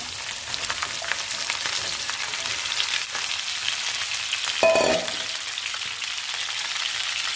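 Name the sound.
okra pieces frying in a pan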